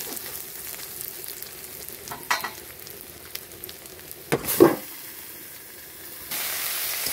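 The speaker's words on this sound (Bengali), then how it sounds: "শাকটা দিয়ে দিয়েছি, এবার খুন্তির সাহায্যে ভালো করে নেড়ে নেব।" Greens frying in a pan with cumin and five-spice seeds give off a quiet, steady sizzle, broken by a few scraping stirs of a spatula and a brief louder burst of hiss partway through.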